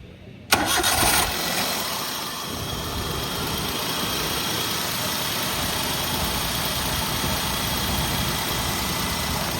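A 2014 Maruti Alto 800 LXI petrol car with an 800 cc engine cranks briefly and catches, then settles into a steady, even idle heard up close.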